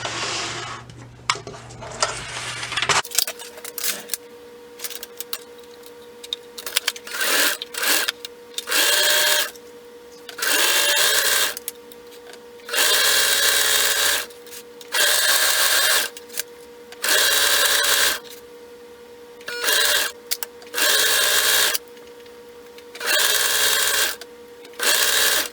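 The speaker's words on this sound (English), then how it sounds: "the next step will be to sew along this back curve" A sewing machine stitches along the back curve of a pair of tights. It runs loud and close in repeated bursts of a few seconds each, with short pauses between runs.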